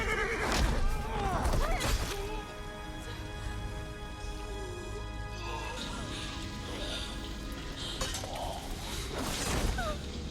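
Horse neighing loudly twice in an animated Lord of the Rings battle scene, with crashing, clattering effects and music around it.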